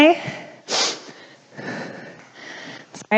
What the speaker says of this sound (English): Sorry, I keep sniffling,